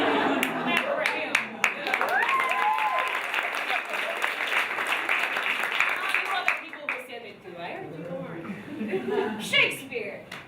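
Classroom audience clapping for a student, a dense steady burst of applause with some laughter mixed in, loud at first and thinning toward the end.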